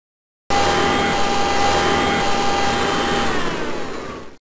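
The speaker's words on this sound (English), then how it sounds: "Vultures vacuum." Vacuum cleaner sound effect in a preschool learning game switches on abruptly after a brief silence, then runs as a loud, steady whooshing drone with a faint whine before cutting off.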